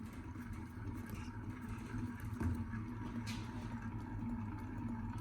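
A worn rear hub bearing on a 2015 Honda CR-V is spun by hand, producing a steady low rumbling drone with a faint whirring hum, moderately loud and continuous throughout, with no talking.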